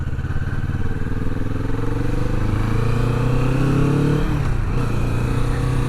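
Kawasaki Vulcan S motorcycle engine running steadily while riding, a loud continuous low rumble with gear-like pitch rises and a brief dip near the end, no talking.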